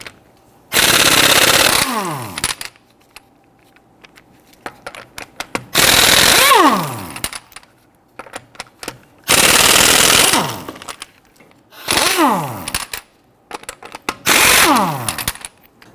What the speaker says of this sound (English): we're going to use our 19mm socket to loosen and remove our lug nuts.